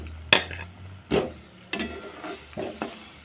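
Fried potatoes being stirred into a spiced masala in a cooking pan, giving a few sharp scrapes and clatters of the spoon against the pan over a low background sizzle, with no talking.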